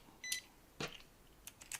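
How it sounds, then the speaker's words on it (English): Small cheap electronic gadget, a bargain multimeter bought in Shenzhen, giving a short bright beep followed by a few fainter electronic blips and clicks, close by and alone in a quiet room. "Oh, it beeped."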